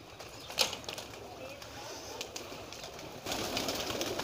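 Male flying pigeons at a loft, readied for a show, give faint soft coos against a steady outdoor hiss, with a brief flap of wings early on and a rougher rush of sound near the end.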